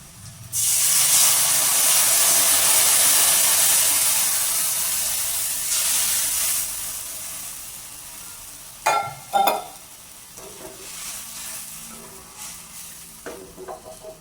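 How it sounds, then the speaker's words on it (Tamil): A loud hissing sizzle bursts up as milk and tamarind are poured into a pot of simmering fish curry, then fades to a softer bubbling with a few clatters from the pot. "இப்போ நாங்கள் இந்த பாலையும் புளியையும் இதுக்குள்ளே விடுவோம்"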